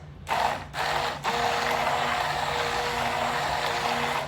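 An electric hand mixer whirs steadily on high speed, beating a Caesar salad dressing, with a couple of brief stops and restarts near the start before a loud continuous drone.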